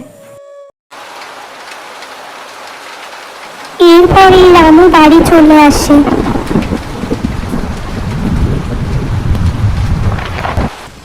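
Heavy rain and a thunderstorm in a Bengali cartoon about a flood and a banana-leaf house roar steadily, with a loud burst and rumble partway through while a narrator speaks over the storm.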